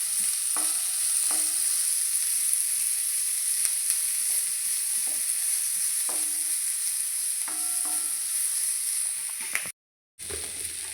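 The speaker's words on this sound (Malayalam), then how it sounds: "നന്നായി ഇളക്കി മൂപ്പിച്ചെടുക്കുക." Chopped onion stirred and frying in hot oil in a pan for Kerala-style cooking, a steady close sizzle with repeated scraping stir strokes throughout, briefly cutting out near the end.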